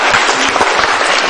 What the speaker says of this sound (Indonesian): Kasih tepuk tangan dong untuk teman-teman Akademi Samali.